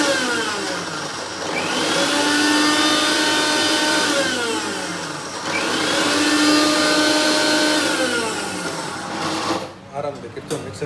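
Ingredients for homemade laddoos are ground to a fine powder in a kitchen mixer grinder, its loud high whir running in two long bursts with a brief dip between them, then stopping as a voice speaks.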